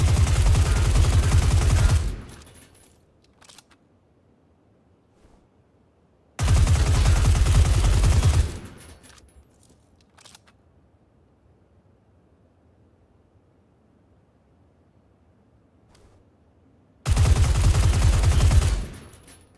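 Automatic gunfire sprays in PlayerUnknown's Battlegrounds, three loud sustained bursts of rapid fire, each lasting about two seconds, separated by long quiet gaps.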